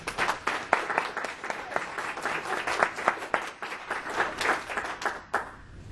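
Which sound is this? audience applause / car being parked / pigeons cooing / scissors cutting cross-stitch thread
audience applause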